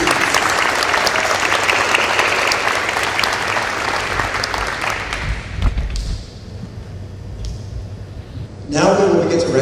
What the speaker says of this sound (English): So if we could have one more round of applause for all of these outstanding students.